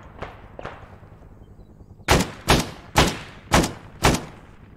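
Gunfire in the Vietnam-era military game Arma: five loud, sharp shots at a steady interval, each with a short echoing tail, preceded by two fainter distant reports.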